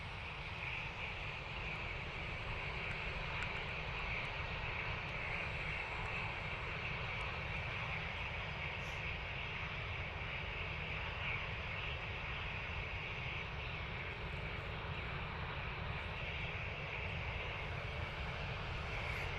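A single-aisle jet aircraft at Dublin Airport makes a steady, distant engine drone and whine that holds evenly throughout, fairly faint and with no voices.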